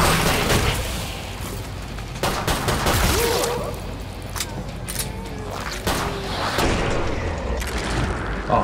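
Dense bursts of rapid gunfire and heavy booms fill the Killing Floor 2 firefight, loud and continuous with repeated sharp cracks stacking over each other throughout.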